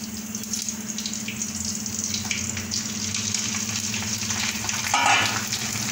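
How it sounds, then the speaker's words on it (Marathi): Homemade kurdai papad frying in hot oil gives a steady, close bubbling sizzle that runs the whole time without talk, swelling slightly louder near the end. "आणि इथं कोरडाई पापड तळून घेते."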